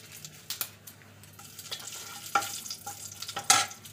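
Radhuni seeds and bay leaves sizzling in hot oil on a low flame, a faint crackling fry with a few sharp clinks and scrapes of a spoon stirring in the pan.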